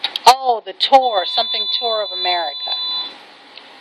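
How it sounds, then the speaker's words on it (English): A mobile phone gives a steady electronic beeping tone for a few seconds, partly under a person talking. "please excuse my phone"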